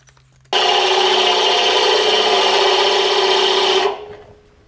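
Ryobi 18V right angle drill boring into wood, a loud steady whirring grind that starts abruptly, holds for about three seconds, then spins down.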